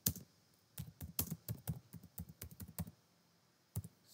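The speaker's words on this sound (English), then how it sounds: "So you have to type Picture in Picture extension." Close, brisk typing on a computer keyboard, a quick run of key taps in uneven bursts, then a pause and a final pair of taps, with no talk.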